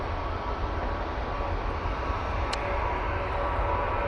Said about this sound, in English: That was the Ryanair 737 MAX 8 off to Harnia